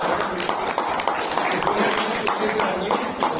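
Audience applause at a Toastmasters club meeting in Bangalore, a close, dense patter of many hands clapping with small surges, steady throughout the short stretch.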